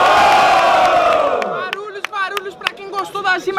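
Crowd at a student rap battle in Brazil: a loud, sustained cheer and roar that fades, then breaks into scattered shouts, whistles and clapping, close and lively.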